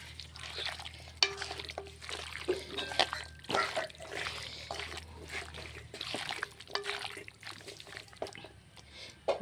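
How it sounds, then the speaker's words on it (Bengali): Chicken meat mixed by hand with oil and spices, giving soft, wet squelching and stirring sounds in irregular bursts, quiet and close, with a low steady hum beneath. "সুন্দর করে হাত দিয়ে মাখিয়ে নেব।"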